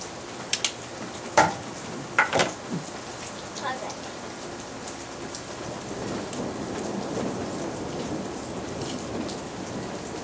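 Rain falling during a thunderstorm in Jordan, a steady hiss of rain on surfaces with a few sharp close drips or taps early on and a low rumble building in the later half.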